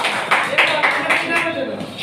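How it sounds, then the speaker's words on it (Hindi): Students in a Hindi-medium classroom give a short burst of clapping, a few uneven rounds of claps under the teacher's speaking voice. "बहुत अच्छा, गुड, ताली बजा दो इसके लिए"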